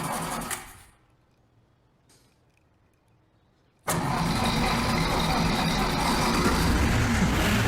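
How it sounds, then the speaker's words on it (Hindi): A car engine cranks briefly and dies, followed by quiet, then a loud, steady engine-like drone runs continuously at close range. "ये स्टार्ट भी नहीं होगी।"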